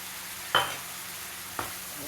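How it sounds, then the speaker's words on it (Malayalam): Roasted coconut is stirred into tamarind water in a pan, giving two distinct scraping strokes over a soft, continuous simmer. "തേങ്ങ നല്ലോണം ഇത് കിടന്നൊന്ന് ഇളക്കട്ടെ"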